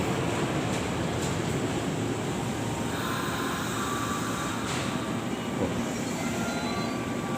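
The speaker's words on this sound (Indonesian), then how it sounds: "ini mau ke Ancol dan Tanjung Priok, baru tiba nih KRL-nya" A KRL commuter train pulls into a Jakarta station on the line toward Ancol and Tanjung Priok, a steady broad rumble with faint squeals and tones riding on top, no voices.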